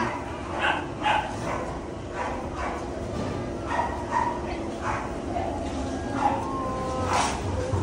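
A Pomeranian yips and barks in short, repeated bursts at moderate volume, with light background room noise and some faint voices in the setting.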